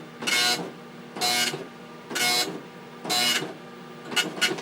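A Tandy computer printer prints a banner, its print head rasping in five evenly spaced, loud bursts with quieter gaps between passes and no talk over it.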